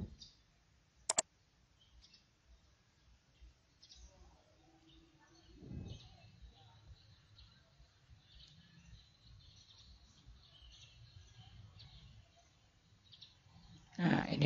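A computer mouse gives a sharp click early on and another near the end, with quiet room tone and faint background noise in between.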